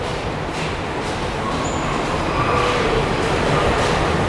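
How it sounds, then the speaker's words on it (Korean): Subway train rumbling through an underground tunnel, heard from deep inside a tunnel between Jeungsan and Gajwa stations in Seoul; a steady, loud low roar fills the whole stretch without a break. "전철도 잡힐 수 있고."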